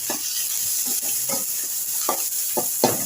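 Onion, green chilli and other ingredients for ragi adai fry in a pan under a steady sizzle. A spoon scrapes and stirs them in a loose rhythm of short strokes, close and moderately loud.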